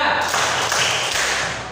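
A school class claps a short rhythmic clap pattern together, a quick burst of hand taps close by with some voices mixed in.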